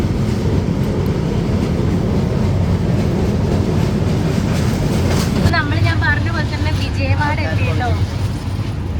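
The Vivek Express rolls along the rails with a continuous loud rumble and rattle of carriages, while people talk over the noise.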